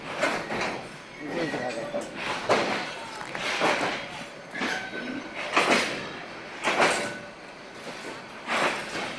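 A train rumbles and clatters at Kamalapur railway station in Bangladesh in rhythmic swells of noise, with voices talking faintly underneath.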